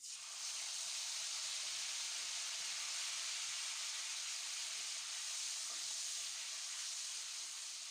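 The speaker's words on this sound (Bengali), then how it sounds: "দেখুন টমেটোটা আমার ভাজা হয়ে গেছে" Tomatoes frying in a pan with nigella seeds and green chilies for a river fish mustard curry give off a steady, even sizzling hiss that holds for the whole stretch, with no talking.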